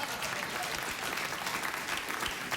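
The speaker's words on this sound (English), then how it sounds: "that was a round of applause" Late-night talk show studio audience breaking into applause, a dense steady patter of clapping for a few seconds.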